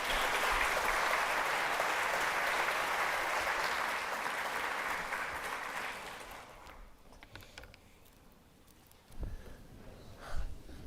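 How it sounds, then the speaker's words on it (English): Applause from an energy summit audience for a panel, steady clapping for about six seconds that then thins out and fades, followed by a few faint knocks and shuffles. "So a round of applause to our great panelists."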